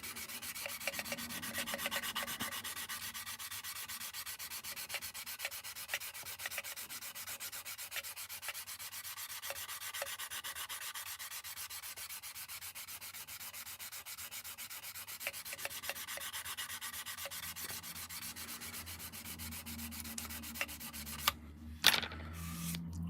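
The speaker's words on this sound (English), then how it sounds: "it bends the tape, the sanding, I call it sanding tape." Sanding tape rubs back and forth along the edge of an Airfix Concorde plastic model kit, a steady soft scratchy rasp that continues for a long stretch, close and quiet, ending with a few clicks and a bump.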